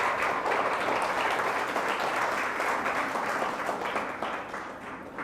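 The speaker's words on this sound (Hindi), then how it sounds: "जोरदार ताली से हम खुदावन यीशु मसीह को धन्यवाद दें।" A church congregation applauds loudly and steadily, dense clapping filling the space for several seconds before easing slightly toward the end.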